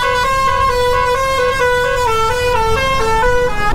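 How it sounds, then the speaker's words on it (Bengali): A vehicle horn blares a wavering snake-charmer melody in heavy highway traffic near Prayagraj, loud and continuous for several seconds, heard from a motorbike with a low road rumble beneath. "বাবা, এটা হর্ন নাকি সাপের বিন?"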